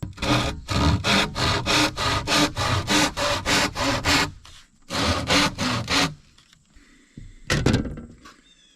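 Hand sawing through a plastic trim piece made to look like gray wood, close and loud, with a run of about a dozen rhythmic strokes, a short pause, a few more strokes, then a thunk and some brief scraping.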